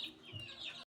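Chickens clucking softly as they eat homemade mixed feed, a steady close murmur of hen calls and chirps with no talk.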